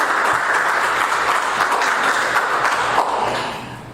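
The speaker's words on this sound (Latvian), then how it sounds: "Aplausīs!" An audience at an author's evening applauds with dense, steady clapping that fills the room and fades slightly at the end.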